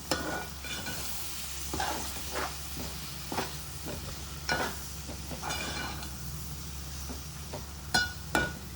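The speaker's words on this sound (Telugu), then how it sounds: "ఇప్పుడు కలుపుదాము" A spoon stirs chili powder into a tomato curry in a pan, with soft scraping and occasional light clinks against the cookware over a low, steady sizzle, close and fairly quiet.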